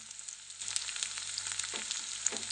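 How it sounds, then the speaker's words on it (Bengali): Prawns fry with ginger in a hot pan, giving a steady, fairly quiet sizzle that picks up after a brief softer start, with small crackles along the way. "এখন চিংড়ি মাছটা দিয়ে আবার ভেজে নেব"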